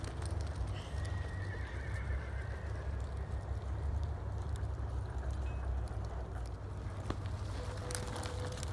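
A barrel racing horse's hooves clip-clop in a steady rhythm across the ground, with faint birdsong and ambient noise in the background.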